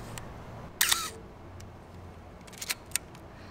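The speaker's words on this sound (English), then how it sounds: "The sound that the camera makes is so sick." Shutter of a film camera fires with a loud, sharp mechanical click near the start, followed by a few quieter clicks and winding sounds in a quiet garage area outdoors.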